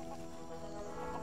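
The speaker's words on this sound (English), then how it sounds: "There's a chicken right here." Chicken clucking in the LEGO Worlds video game, a steady stream of soft, rhythmic clucks heard close and alone, without talk.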